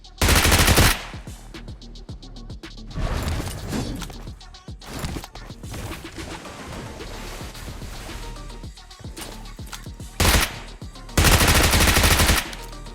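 Gunfire in the video game BGMI PUBG Mobile, loud automatic bursts and single shots in rapid rattling runs, with heavier blasts at the start and end, up close and dominant.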